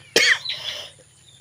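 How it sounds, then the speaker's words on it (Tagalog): A single sharp cough from a person, followed by a trailing breathy exhale, then the start of another cough at the very end, close to the microphone against a faint hum. "Pasensya na po kasi may may ubo."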